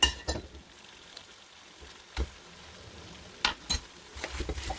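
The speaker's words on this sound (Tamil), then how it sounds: "இப்போ நான் இந்த பேக் பண்ணி வச்ச சிக்கனை இதில் ஆட் பண்ணிக்குள்ள போகிறேன்." Cooked chicken pieces tossed into sauce in a frying pan for Chicken Devil, giving a soft sizzle under scattered stirring scrapes and a few sharp utensil clinks against the pan.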